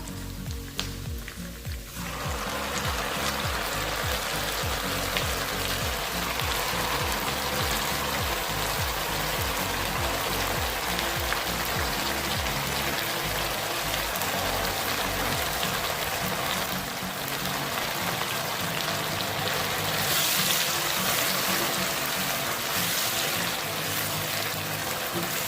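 Mustard greens saag added gradually into hot tadka, a dense continuous sizzle and crackle that starts abruptly after a brief lead-in and holds steady throughout, fairly close and unaccompanied by talk.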